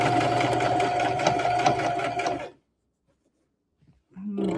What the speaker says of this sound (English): I'm just going to sew it.